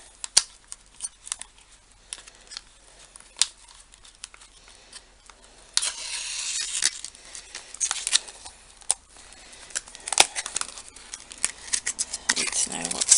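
Laminated paper for a notebook is trimmed with scissors, giving scattered close snips and clicks followed by a denser stretch of rustling cuts and handling noise, with a voice speaking at times.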